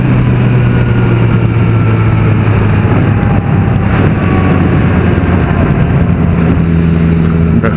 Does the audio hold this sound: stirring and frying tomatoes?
no